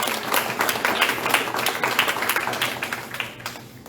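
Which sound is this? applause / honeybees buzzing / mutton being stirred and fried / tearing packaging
applause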